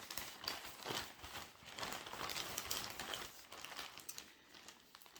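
Thin plastic crinkles and rustles as an item is slid into a poly shipping envelope, giving soft, irregular crackling close by.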